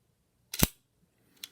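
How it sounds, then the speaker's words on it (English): A Leica IIIf rangefinder camera with a shutter fault fires once with a sharp, close mechanical snap, followed by a fainter second click a moment later. "we can probably take a look and see if it looks like the shutter is clearing"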